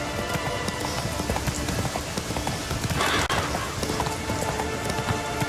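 Horse hooves clip-clop at a steady gallop through a rainy outdoor scene in the video game The Witcher 3, a dense, continuous rhythm under falling rain with a brief neigh, no talk.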